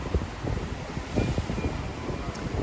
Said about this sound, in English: It's a windy day today, everybody.